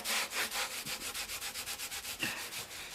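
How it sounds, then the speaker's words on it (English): Rhythmic scrubbing strokes of a cloth rubbing finish hard into a textured wooden sculptural table top, close and brisk at a steady back-and-forth pace, no voices. "So you have to rub pretty hard to get it to really go into all of the little crevices"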